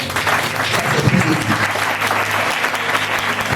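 A church congregation claps and cheers to acclaim Jesus, a dense, steady wash of loud applause from many hands, with voices mixed in under it.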